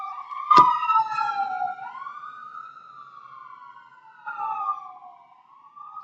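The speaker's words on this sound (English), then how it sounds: "That was an ambulance that just went by." An ambulance siren passes by outdoors, a wailing, rising and falling tone heard at moderate distance with no talk over it, joined briefly by a sharp short burst near the start.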